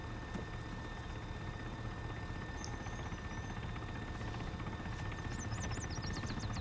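A friendly helicopter in the military video game Arma 3 drones steadily throughout, its rotor and engine a continuous, fairly faint hum with a few faint chirps near the end.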